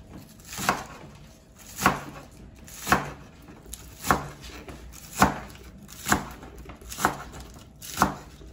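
A knife rough-chops green onion on a cutting board: about nine sharp, evenly spaced thuds roughly a second apart, close-up and crisp over a quiet kitchen background, with no talking.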